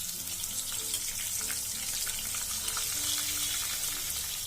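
Ginger, garlic and onion paste sizzling in hot oil in a pan for mutton curry, a steady close crackling hiss that runs evenly throughout with no talk.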